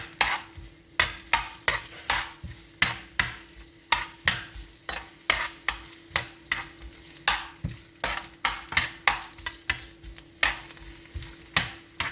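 Ginger and garlic sauté in hot oil in a pan, a continuous soft sizzle broken by brisk, regular scrapes of a utensil stirring roughly twice a second, close and alone without talk.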